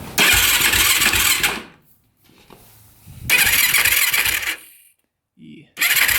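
A special edition race quad's engine cranks in loud, rough bursts of about one and a half seconds, separated by quiet pauses, with a third attempt starting at the end.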